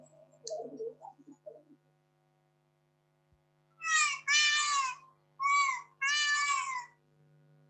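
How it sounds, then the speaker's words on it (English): A peacock gives loud, nasal wailing calls, four drawn-out cries in two pairs after some faint chirps at the start, close and prominent against a quiet background hum. "That was the peacock sound."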